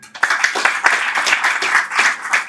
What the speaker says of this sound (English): You should clap for him.